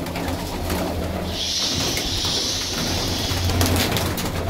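Sialkoti and Teddy patti pigeons coo softly amid a steady background hiss, with a brighter sustained high-pitched tone running through the middle part of the scene.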